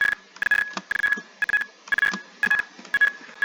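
A fire alarm in the Roblox video game sounds in a steady run of short, bright electronic beeps. They repeat in quick bursts at a moderate level and nothing else is heard.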